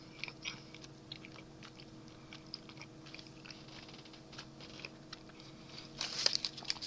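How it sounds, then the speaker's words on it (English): Someone chews a chocolate peanut Atkins bar with faint, close mouth sounds and small crunches that grow louder toward the end. "Chewy. Got a little bit of crunch from the peanuts."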